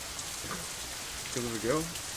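Steady soft rain falls throughout a quiet scene in the visual novel Katawa Shoujo, an even hiss with brief faint tonal sounds rising near the end.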